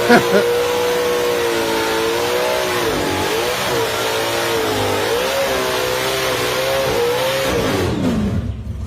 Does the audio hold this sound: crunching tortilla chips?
no